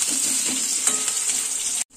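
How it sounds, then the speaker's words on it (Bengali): A loud, steady hiss of potato pieces frying in hot oil, close up, cutting off abruptly near the end. "আলুটাও ভাজা হয়ে গেছে লাল লাল করে"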